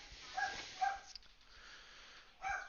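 A pet dog gives short, sharp barks with brief sniffing between them, a few separate yaps close by in a quiet indoor room.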